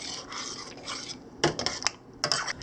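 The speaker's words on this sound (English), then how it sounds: "So you give it a good stir." A utensil stirs homemade dumplings in a boiling metal pot, scraping and clinking in a run of scraping strokes and sharp taps, close and fairly loud, with no talking.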